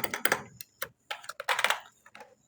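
Keystrokes on a computer keyboard while entering HTML5 code, irregular clusters of crisp clicks with short gaps, close and fairly loud, no voices.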